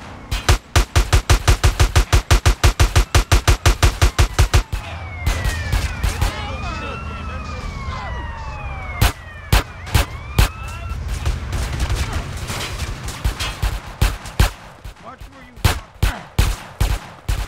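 Rapid automatic gunfire in the game GTA San Andreas during a gang-member chase mission, with a loud burst of evenly spaced shots, then game noises and scattered single shots resuming, with brief voice lines.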